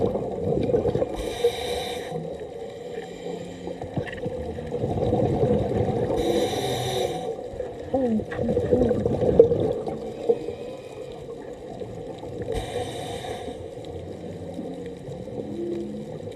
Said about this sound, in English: listening to the whales